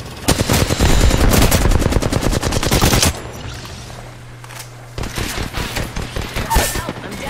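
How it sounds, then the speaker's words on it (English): Video game gunfire rattles in rapid, loud automatic bursts, a dense machine-gun stream for about three seconds, then after a brief lull more bursts of shots return, with faint voices underneath. "We're shooting."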